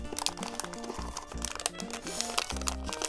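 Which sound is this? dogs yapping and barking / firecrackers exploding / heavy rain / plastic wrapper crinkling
plastic wrapper crinkling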